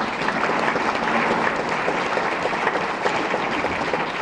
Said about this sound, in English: so let's give our speakers a big round of applause